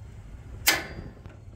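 A single sharp igniter click on a Blackstone griddle, a brief bright snap that fades quickly, followed by a faint second tick, heard alone against low background hum.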